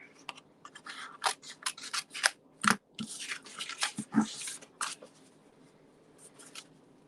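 Scissors cut around a piece of black paper during card crafting, a close series of quick crisp snips and rustles in irregular bursts, with short pauses and a couple of louder knocks. No voices are present.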